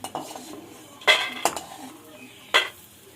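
Fried lentil dumplings (bori) lifted out of hot mustard oil in a wok, with a few sharp metal spatula scrapes and clinks against the pan over a quiet background.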